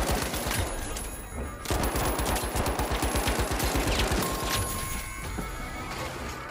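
Rapid automatic gunfire in The Finals, a fast shooter game, with a dense rattling burst of shots running through most of the stretch, close and loud, joined by sharp cracks and crashing impacts near the end.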